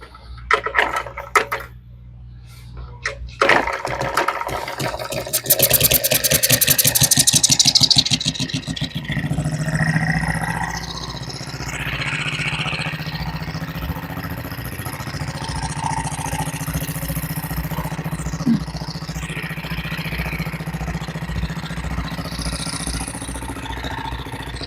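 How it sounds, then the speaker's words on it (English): A small kickstart hit-and-miss engine kicked over, sputtering and catching, then settling into a steady, uneven chugging idle with intermittent firing. "And we'll see if one of those will start. These are kickstart engines."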